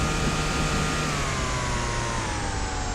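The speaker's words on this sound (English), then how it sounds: "The engine sounds really weird." A car engine idles steadily in the Car Dealer Simulator video game, a loud, constant mechanical drone with a faint whine that drifts slightly in pitch, lasting a few seconds with no voices.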